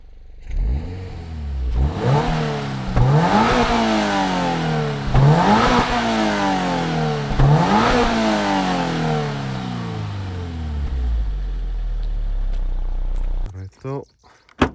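A Toyota GR86 engine is revved hard through dual tailpipes: several close, loud, rising revs in quick succession, then a steady sustained drone before a final clatter as it settles.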